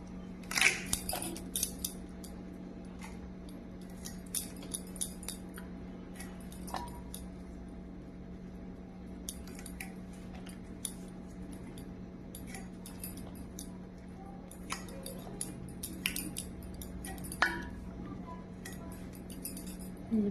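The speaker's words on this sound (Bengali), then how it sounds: "পেঁয়াজ কালিগুলো সব কটাই কাটা হয়ে গেল আমার, দেখতেই পেলে।" Onions are cut by hand for cooking, producing quiet, scattered clinks and taps of the blade spread irregularly over a faint steady hum, with occasional brief voice.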